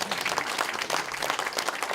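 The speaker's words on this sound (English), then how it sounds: "we'll applaud those that are not present today" Audience at a center opening claps in dense, continuous applause throughout, moderately loud and unbroken.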